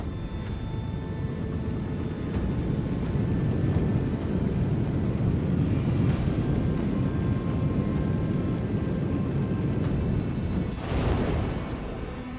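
Low, continuous roar of bomber aircraft engines in the video game Warhammer 40k: Rogue Trader, a steady dense drone held for the whole stretch with a brief brighter swell near the end.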